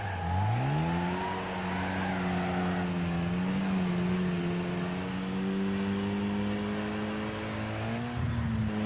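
A car engine in the Wreckfest racing game, running on a randomized tune, revs up through the gears and then bogs in fourth, the pitch rising slowly and steadily under load. The engine sounds close and loud, with no talking.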